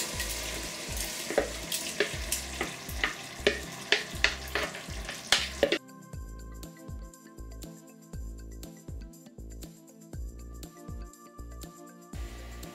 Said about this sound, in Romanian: Pun acum și pulpa de roșii obținută mai devreme.